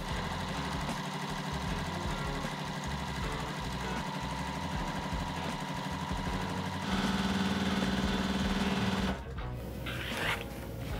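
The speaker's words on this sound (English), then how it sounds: "And we're going to sew this." A sewing machine runs steadily, stitching quilt pieces together in a continuous close-up drone that shifts pitch partway through and then cuts out near the end, with no talking.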